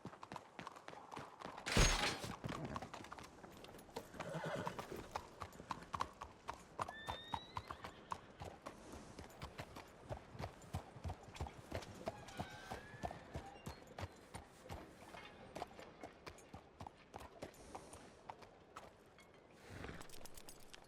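A summoned horse trots up in a Western roleplay video game, its hooves clip-clopping in a steady rhythm that comes nearer, with a whinny early on, a snort near the end and faint game ambience underneath.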